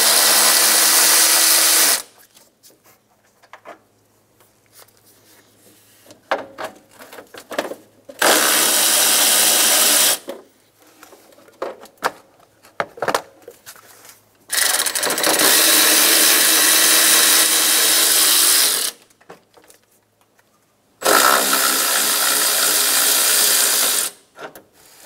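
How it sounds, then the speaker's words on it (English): A ratchet with a 10 mm socket removing the fan shroud bolts on a 2000-2006 Toyota Tundra 4.7L V8, heard as four loud, rapid clicking bursts of several seconds each, separated by quieter gaps of handling noise. "Remove the four bolts for the fan shroud using a 10 millimeter socket"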